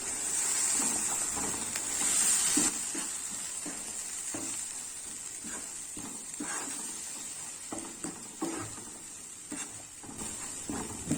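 Tomato masala paste sizzles softly over low heat in a pan while a spoon stirs it, a steady frying hiss with scattered scraping clicks, a brighter hiss swelling near the start and easing off.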